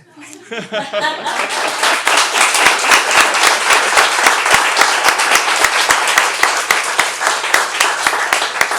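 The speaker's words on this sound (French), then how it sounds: "Arrêtez de m'applaudir à chaque fois que je pleure" A crowd applauds a municipal council candidate at a campaign event for Lac Jérôme district, sustained dense clapping starting after a brief spoken moment and continuing steadily, loud and close, with scattered chuckles.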